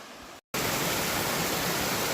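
Mountain creek water flowing over exposed bedrock, a steady broadband rush close by, briefly cut out near the start and then continuing loud and even.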